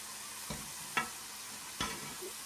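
Sesame-coated arvi frying golden brown in hot oil gives a faint, even hiss, cut by three sharp clicks of a utensil against the pan spaced through the stretch.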